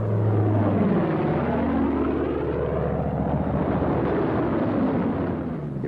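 A WW2 Thunderbolt aircraft flying in low to land over an Italian airfield, its loud, continuous propeller-engine roar steady and close throughout with no other sounds.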